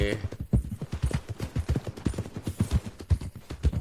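Horse hooves clip-clop in a steady rhythm through the mud-and-dirt setting of Red Dead Redemption 2, close and continuous, with brief whinnying and faint distant gunfire-like pops mixed in.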